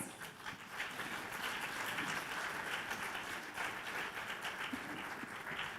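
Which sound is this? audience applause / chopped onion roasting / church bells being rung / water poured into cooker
audience applause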